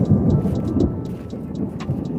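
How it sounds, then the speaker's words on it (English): Low rumbling thunder rolls beneath steady rain on a country homestead as a storm approaches, a continuous deep murmur with light pattering and faint ticking on top, no voices. "You hear the thunder?"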